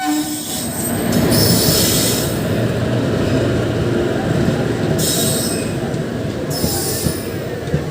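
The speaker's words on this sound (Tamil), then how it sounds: "ஸோ இப்போ நம்ம டேரெக்டாக மேங்களூர் சென்ட்ரலுக்குள்ளே என்ட்ரு ஆகிட்ருக்கோம்." Matsyagandha Express rolling into Mangaluru Central station on the Konkan Railway, a loud continuous rumble of wheels on track with sharp, high wheel squeals rising in bursts, close and steady throughout.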